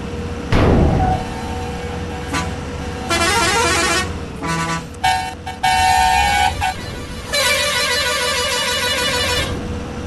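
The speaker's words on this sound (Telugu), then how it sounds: "సో చూసారు కదా గైస్ ఎలా వస్తుందో హార్న్లు, అలాగే బస్ ఇంజన్ సౌండ్స్" Bus horns in the Bus Simulator Indonesia game honk repeatedly in loud, sustained blasts of varying pitch, some long and some short with brief gaps, over a steady engine drone.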